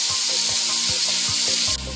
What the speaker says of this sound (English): while the second batch of the calamari is frying